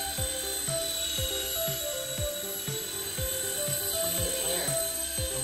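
A cheap $5 Five Below toy RC helicopter flies in to land, its small rotor buzzing steadily and close by with a whiny mechanical tone, punctuated by a series of short repeated low thumps.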